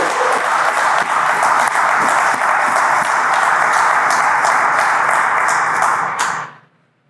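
Audience applause at a Manitoba Blue Cross partnership announcement with STARS, a dense, steady wash of many hands clapping at full strength for about six seconds, then fading quickly to silence.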